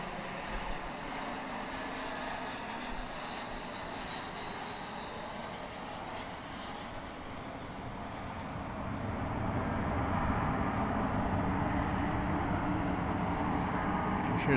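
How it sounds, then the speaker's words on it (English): A United jet roars steadily during takeoff at DFW International Airport, a broad continuous rumble heard from a distance that swells louder partway through, with no talk over it. "You hear the roar of the United jet."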